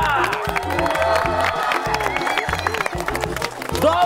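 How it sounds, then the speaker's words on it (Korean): Loud studio audience applause and cheering on a Korean variety show, with dense clapping and whoops sustained throughout, mixed with shouting voices. "박수 한번 주세요!"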